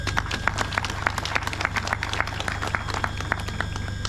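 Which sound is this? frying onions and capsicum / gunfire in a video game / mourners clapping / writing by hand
mourners clapping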